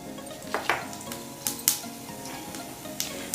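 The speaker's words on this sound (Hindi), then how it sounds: "तेल अच्छे से गर्म हो गया है। अब मैं इसमें डाल दूँगी 1 छोटा चम्मच जीरा" A small spoonful of cumin seeds crackles and sizzles in hot oil, with sharp pops and several clinks of a spoon against the pan over a steady frying hiss.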